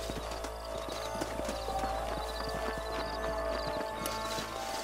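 Horses' hooves clip-clop steadily at a walk in the Western video game Red Dead Redemption, a dense rhythmic patter of several animals close by with a faint whinny, no talking.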